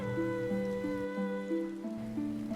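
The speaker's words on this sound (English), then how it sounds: "Rainy day out here today." Steady rain falling in Final Fantasy XIV: Stormblood, a soft continuous patter layered beneath sustained game music, with no talking.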